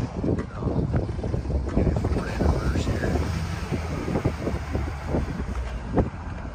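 A 2020 Caterpillar CUV85 utility vehicle engine runs steadily outdoors, with wind buffeting the microphone and a voice talking over the engine throughout.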